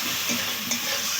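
Tomatoes and spices for a bata fish curry sizzle steadily in a hot pan during a brief stretch of frying, with a soft, even hiss and no voices.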